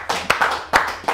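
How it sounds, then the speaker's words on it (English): A few hand claps during a live radio interview, sharp separate hits in an uneven rhythm, close and fairly loud, with no talk over them. "Give him a round of applause."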